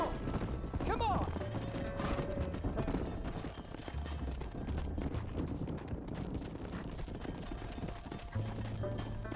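Horses' hooves clip-clop steadily through a ranch pen in the Red Dead Redemption game at Beecher's Hope, close and continuous over a busy background of game ambience and music.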